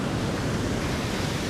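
Ocean surf breaking on a beach where striped bass are fished, a steady loud wash of roaring broadband noise with no pauses, close and continuous.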